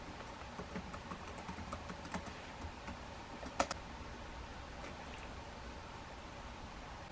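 Soft, irregular keystrokes tap on a computer keyboard as text is typed during video editing in Movavi, quiet and close over a faint steady hiss, with one sharper click in the middle.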